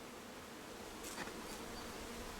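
Honeybees hum from an open hive during a June brood-nest inspection, a faint, steady, even drone with no voices.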